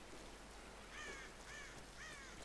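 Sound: crows cawing in the video game Tomb Raider

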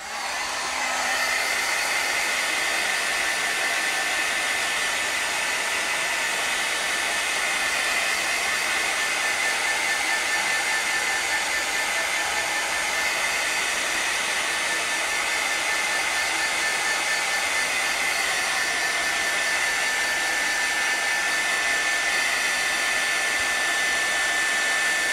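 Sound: hair dryer drying torn paper for mail art

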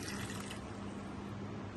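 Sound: water poured into a pot of jaggery

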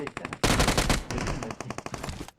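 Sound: gunfire in PUBG Mobile video game

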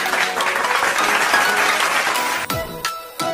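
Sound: children clapping

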